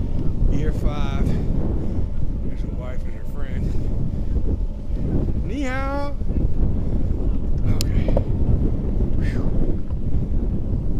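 Heavy wind noise rushes loudly and continuously over the microphone while riding a RadCity electric bike outdoors, with someone speaking intermittently over the steady roar.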